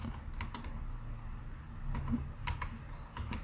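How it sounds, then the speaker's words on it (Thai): Typing on a computer keyboard, a close, quiet run of uneven key clicks and taps spaced across a few seconds over low background hum. "ผมจะพิมพ์คำว่า"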